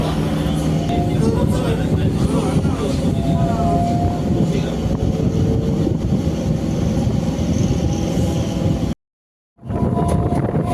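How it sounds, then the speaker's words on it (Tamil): Steady rumble and clatter of a local EMU electric commuter train running between Tiruttani and Avadi, continuous and loud, with a brief dropout near the end before the noise resumes. "இந்த லோக்கல் இஎம்யூ ட்ரெயினில் நம்ம ஆவடி வரையும் ட்ராவல் பண்ணிகிட்டு இருக்கோம்"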